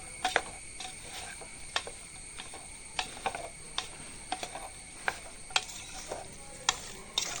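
Chicken pieces with chili powder are stirred in a pan, giving a run of light scraping clicks from a spoon at an uneven pace over a faint sizzle, with no talking.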